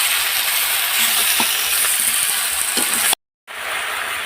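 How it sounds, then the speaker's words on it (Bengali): Pumpkin and malabar spinach curry being sautéed in a pan gives a steady, close hiss of frying, with occasional clicks and scrapes of stirring, then a brief silent break before the sizzle resumes. "এবার ভালো করে কষিয়ে নেবো।"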